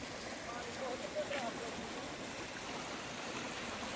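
Steady broadband rush of a flooded stream, continuous and fairly loud, with a faint voice briefly audible underneath.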